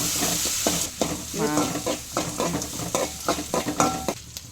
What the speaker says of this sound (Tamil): சட்டி அடுப்பில் வச்சு கொஞ்சோண்டு எண்ணெய் ஊற்றி கடுகு போடுறோம் கொஞ்சோண்டு உளுந்தம்பருப்பு போட்டிருக்கோம் இதை கிண்டி வேக விடணும்